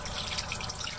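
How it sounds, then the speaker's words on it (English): Cold tap water runs continuously to rinse madder pigment, a steady bright hiss and splash close by without pause. "So now we want to rinse with cold water this through so that we can get rid of the acid"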